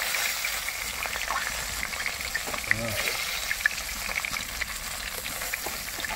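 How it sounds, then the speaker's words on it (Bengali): Fish pieces fry in hot oil in a pan, a dense, steady crackling sizzle close by with a few faint clinks and brief murmurs in the background. "একটু সুন্দর ভেজে নিতে পুরো লাল লাল।"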